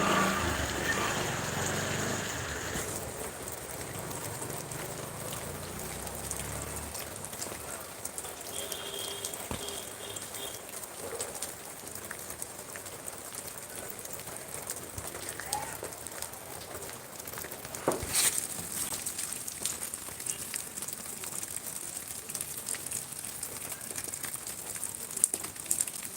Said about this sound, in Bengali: প্রচুর বৃষ্টি একটু পর পর একটু পর পর পাঁচ মিনিট পর পর বৃষ্টি